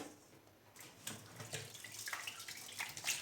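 Tap water runs and splashes over black olives held in a colander in a kitchen sink, a steady close rushing wash with shifting gurgles and splatters at moderate volume.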